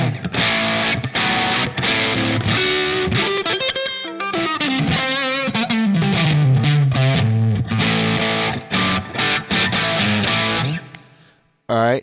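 Electric guitar played through a Line 6 Pod HD500 modelling a Marshall Super Lead 100 Plexi at gain 50, a loud, dense distorted chordal riff with sliding lead lines, ringing steadily before fading out at the end.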